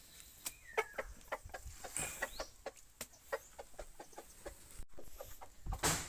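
Barred Plymouth Rock chickens clucking while they feed, frequent short clucks and pecking taps in a loose, busy rhythm at close range, with no voices.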